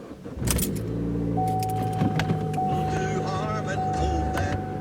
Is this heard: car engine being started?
yes